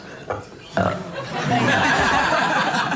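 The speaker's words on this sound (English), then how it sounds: "She did a burp." A burp from a woman in the Big Brother Australia house, a short guttural sound set among lively talk and chuckling from people nearby.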